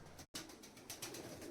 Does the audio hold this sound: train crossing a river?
no